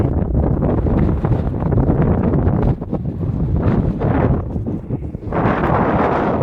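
Strong wind buffets the microphone on the hilltop fort of Hanumantgad, giving a loud, continuous rumbling roar with gusts that rise and fall. No voices are heard.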